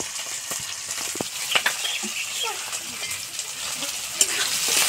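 Green chilies, onion and garlic frying in oil in a pan, a continuous close sizzle with frequent crackles and scraping stirs of a spatula, moderate in level, no voices.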